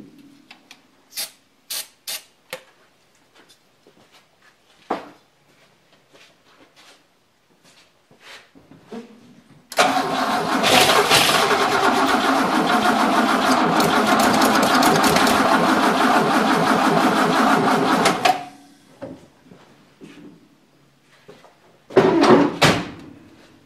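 An Oldsmobile engine cranks on a weak battery in one long, continuous grinding burst lasting several seconds, framed by scattered clicks and knocks before and a short second burst after.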